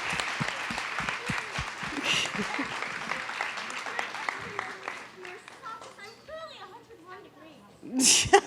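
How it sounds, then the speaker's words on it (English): Applause from a young audience at a school presentation, dense clapping that gradually thins out while children's voices chatter through it, ending with a brief louder burst. "Let's give them another round of applause, please."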